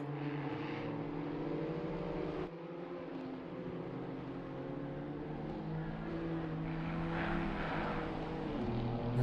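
Multiple BMW race cars, M2 class, bunched tightly on the Valencia circuit in a sim racing game at the start of qualifying, a continuous layered engine roar droning steadily at moderate distance, no talking.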